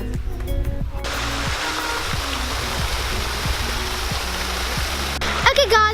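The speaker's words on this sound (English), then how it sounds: "Guys, we are at the waterfall and look how pretty it looks." Waterfall near Graskop, South Africa, a loud, steady broadband rush of falling water filling the whole stretch, with brief voices or other sounds at the start and end.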